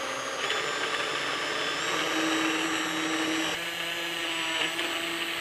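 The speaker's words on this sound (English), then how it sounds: "I'm going to take my immersion blender, put it in the soup, and hopefully I won't get splattered" Immersion blender running steadily in a pot of tomato soup, a loud continuous whirring motor with a slight pitch shift partway through, no talking.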